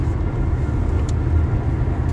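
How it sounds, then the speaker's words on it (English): Steady low rumble of road traffic fills the scene, a continuous near engine drone of passing cars without distinct pass-bys, during a trip in South Carolina. "Because of the traffic and the noise."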